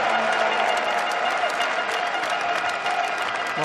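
German spectators cheering and clapping at an indoor hockey match in a World Cup final between the Netherlands and Austria, a loud, dense, continuous crowd roar with applause.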